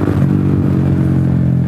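Small motorcycle on a night city ride revving its throttle, a loud, close engine note that rises and holds with some mechanical clatter, no speech over it.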